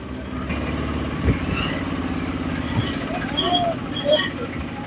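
An auto rickshaw rides through Alleppey, its small engine droning and rattling steadily at close range, with a few horn-like tones and traffic sounds rising over it.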